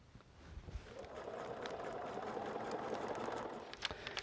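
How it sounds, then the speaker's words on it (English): A sewing machine stitches a green fabric strip for foundation paper piecing, a faint, steady mechanical whir that holds for several seconds with a few light clicks near the end and no voices. "I'm going to continue sewing this green round"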